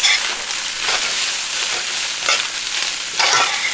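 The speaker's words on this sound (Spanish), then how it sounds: "Lo vamos a seguir mezclando." Chicken tinga with onion being stirred in a frying pan, a steady broadband sizzle with periodic scraping sweeps of the spoon, fairly loud and close, with no talking.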